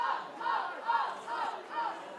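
Rugby league crowd yelling in rising waves for a penalty, with four or five surging chants of many voices that swell and fall in a regular rhythm across the stands.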